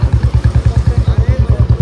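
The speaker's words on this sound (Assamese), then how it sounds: "মই এতিয়া চুবুৰেটৰ বাইকখন চলাই আছোঁ" A subeur motorbike ridden close by, its engine thudding in a steady, rapid rhythm of pulses.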